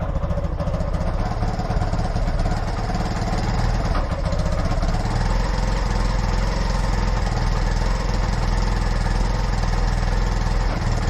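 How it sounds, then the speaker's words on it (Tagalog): An engine idles steadily while warming up before dawn, a continuous low rumble with a mechanical, mower-like drone holding at the same loud level throughout with no talk over it. "Pinapainit ko na yung makina mga kautot."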